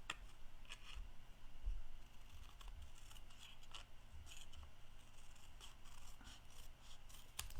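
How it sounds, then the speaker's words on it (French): Several quiet snips of scissors cutting paper, spaced irregularly over a soft background hiss, with no one talking. "Je vais venir le couper avec les ciseaux"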